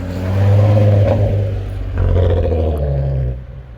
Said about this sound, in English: For a standard car, that is extremely loud.